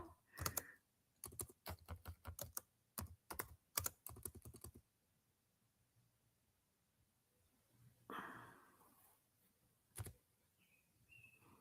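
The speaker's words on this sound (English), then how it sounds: "my typing is terrible." Rapid bursts of typing on a computer keyboard clatter close up, then stop, leaving near silence with a few scattered soft clicks and a faint chirp.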